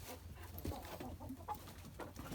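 Soft clucking from a small mixed-breed Leghorn hen in a farm shed, a few short low murmurs scattered through a faint, steady background.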